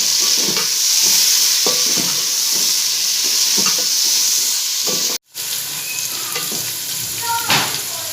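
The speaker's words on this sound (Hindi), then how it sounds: "ये घी में फ्राई होंगे थोड़े से" Vegetables, gourds among them, fry in ghee for a mixed vegetable salan, giving a steady loud sizzle with intermittent stirring scrapes and one brief dropout partway through.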